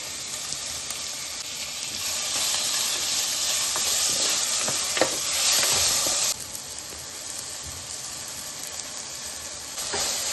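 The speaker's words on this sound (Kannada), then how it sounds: "ಈರುಳ್ಳಿ ಚೆನ್ನಾಗಿ ಫ್ರೈ ಆದಮೇಲೆ ಟೊಮೆಟೊ ಆ್ಯಡ್ ಮಾಡ್ತಾ ಇದ್ದೀನಿ." Tomatoes frying with onions in a pan give a steady loud sizzle and hiss that swells briefly mid-way, with a few stirring scrapes, then settles to a softer continuous sizzle.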